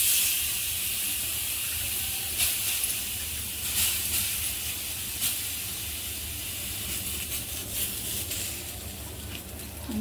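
Thalipeeth, a Marathi bhajani flatbread, laid on a hot oiled pan, giving a steady close sizzling hiss throughout with a few faint crackles.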